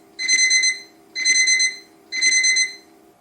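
A countdown timer alarm generated by a Python program beeps three times in even, half-second bursts of a bright electronic tone, clear and loud over a faint steady hum.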